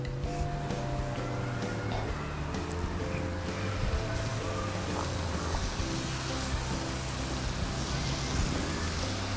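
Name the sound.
coconut chips frying in oil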